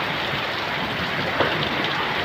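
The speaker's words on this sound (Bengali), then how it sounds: "আরো বৃষ্টি দূরে হচ্ছে, দেখুন, আরো বৃষ্টি দূরে হচ্ছে।" Steady, dense hiss of rainfall with no voices, evenly filling the background at a moderate level throughout.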